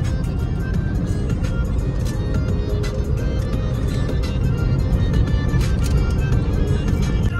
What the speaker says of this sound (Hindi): बहुत ट्रैफिक हो गया इधर रोड पे.